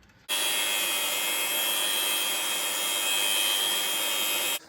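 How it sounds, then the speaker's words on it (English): An angle grinder cuts through the CV axle of a Landcruiser 200 in one loud, steady, unbroken burst of hard metallic whine that runs for about four seconds, then stops abruptly. "So I finally got the grinder. And what we're going to do, our plan is just to cut that there."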